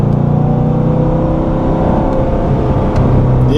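A 2014 Chevrolet Corvette Stingray convertible engine hums steadily while driving on a steep, winding mountain grade, a continuous near rumble with a smooth, unstrained tone throughout.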